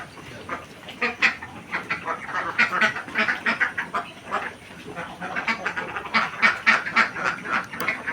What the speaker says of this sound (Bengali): এখানে তেরোশো হাঁস আছে